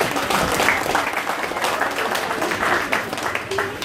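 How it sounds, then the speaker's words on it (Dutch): Audience applauds at the opening of the Harderwijk op IJs ice rink, a dense, steady patter of clapping lasting the whole few seconds with some crowd murmur mixed in. "Mag ik een applaus voor Jennifer?"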